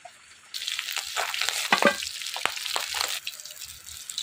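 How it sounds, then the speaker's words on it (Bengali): Magur catfish frying in hot oil gives a loud, steady sizzle that starts suddenly, with brief crackling bursts and fades down near the end. "কত সুন্দর করে মাছ ভাজছি।"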